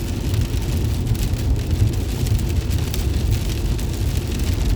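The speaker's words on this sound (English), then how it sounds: "A solid period of rain like this was not expected today." Heavy rain falling steadily during a drive on the 76 and 422 highways, a dense continuous hiss with a low rumble of road noise underneath, loud and unbroken with no talk.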